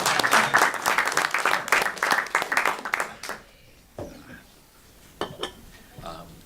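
A small audience at a talk claps for speaker John Judis, a brisk burst of applause lasting a few seconds that dies away, followed by a few scattered claps and faint clinks in a quiet room.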